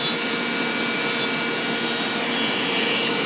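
Hand carving of a wooden figure's eyes on a stick carving of a Native American: a steady, continuous scraping and rasping of blade on wood, close and even, with no talk over it.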